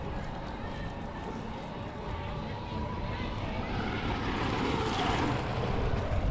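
A Traxxas HOSS 4X4 VXL RC truck runs with its motor at steady throttle, giving a continuous, even, rushing whir that builds slightly louder toward the end.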